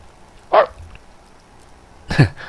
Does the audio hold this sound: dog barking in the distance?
yes